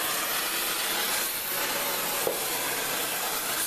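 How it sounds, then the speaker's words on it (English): An oxyacetylene torch with a welding tip heats steel pipe, giving a steady, broad roaring hiss that runs the whole time with no talk. "I'm going to use oxyacetylene with a welding tip to heat"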